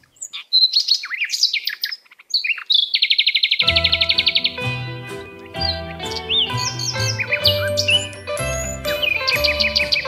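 Several birds chirp and tweet in bright, rapid trills, first alone and then layered over a soft melodic music bed, with repeated high calls throughout.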